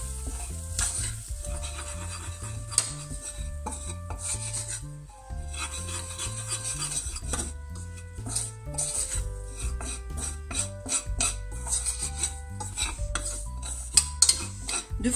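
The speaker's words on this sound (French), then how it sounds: "Vous baissez le feu et vous mélangez la farine avec les oignons." Flour being stirred into onions in a pan over lowered heat, a steady scraping, rasping rub of utensil against pan with occasional clinks, close and fairly loud, no talking.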